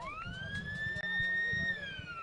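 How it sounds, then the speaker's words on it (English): A long rising siren sounds to start an Australian rules football match between Kapunda and Tanunda, a steady wailing tone heard over crowd noise with a commentator talking. "Siren goes to start this game."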